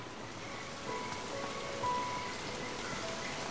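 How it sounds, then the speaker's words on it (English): Steady rain pours down on the Serengeti plains, a continuous, even hiss of drops on the ground that stays moderately quiet throughout, with no voices. "Rain is pouring down the Serengeti."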